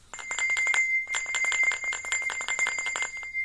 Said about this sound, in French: Allez Mio, l'école c'est fini pour aujourd'hui, la cloche sonne.